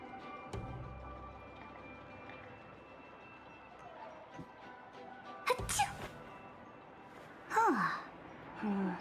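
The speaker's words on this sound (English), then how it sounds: "Sneeze, do the sneeze." A character sneezes in the Honkai: Star Rail video game, with a short sharp burst near the middle and another bright vocal burst later, all over a steady low game soundtrack.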